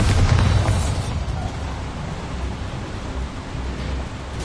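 A Bombarda spell goes off in Hogwarts Legacy inside a mine, a heavy booming burst at the start that settles into a long, loud rumbling roar.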